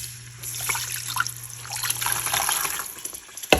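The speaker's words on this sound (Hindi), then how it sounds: "पानी मैं एकदम से ही डालूंगी" Water poured all at once into roasted semolina for halwa over low heat, a splashing, bubbling rush that swells and sizzles for a few seconds beneath a faint steady hum.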